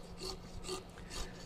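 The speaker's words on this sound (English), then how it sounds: "and we're sawing through the vertebrae." A meat saw cuts through pig vertebrae while half a hog is butchered, making three close, even rasping strokes with no voices.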